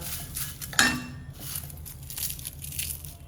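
Curry leaves dry-roast in a pan for idli powder, giving a dry rustling crackle as they are stirred, with a sharp metallic clink of the spoon against the pan early on.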